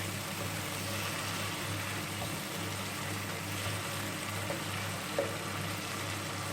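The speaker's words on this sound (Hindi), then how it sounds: "आलू भी बढ़िया से भून रहे हैं" Potatoes with dissolved tomatoes and spices frying in oil in a pan for egg and potato bhurji masala, a steady even sizzle and hiss with a low constant hum beneath, no talking.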